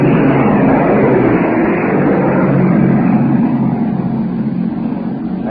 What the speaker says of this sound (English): Now planes are going overhead.